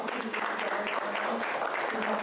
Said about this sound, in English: and I want to thank my colleague Charlene, give her a big round of applause